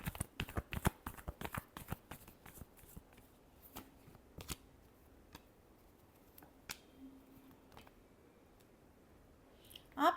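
Tarot cards shuffled by hand in a quiet room, a rapid burst of crisp riffling clicks that thins into scattered single taps and flicks, ending with one last quick flurry close to the mic.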